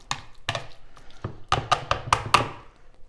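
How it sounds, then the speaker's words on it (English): A masher works through creamy guacamole in a bowl with lime juice, making a series of sharp, close thumps, first spaced out and then coming faster. "Grab the masher, mix it in. Just give it a stir since it's already pretty creamy."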